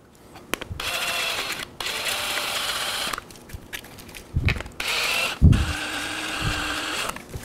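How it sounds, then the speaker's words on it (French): A drill with a 13/16 bit enlarges a hole in a plastic panel of a Can-Am Spyder F3 for a fog light, running in several whirring bursts separated by short pauses and clunks. "Allez-y tranquillement, prenez une drill."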